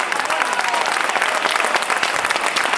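An outdoor crowd in Chiva, Valencia gives a dense, sustained ovation after a mascletà fireworks display, many hands clapping at once in a steady roar.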